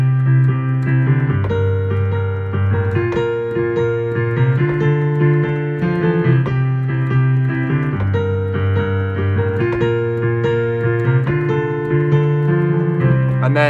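Piano playing a song with both hands, a bass line shifting under steady repeated chords, continuous and moderately loud for the whole stretch.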